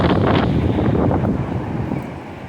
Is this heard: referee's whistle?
no